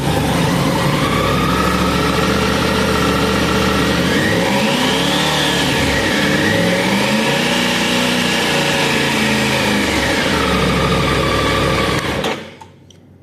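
A 2024 Triumph Tiger 900 GT Pro / Rally Pro motorcycle engine idling loudly up close, then revving up twice with rising and falling whine before cutting off abruptly near the end.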